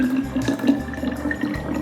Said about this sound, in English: let's go ahead and pour our kefir, our nice thick kefir here,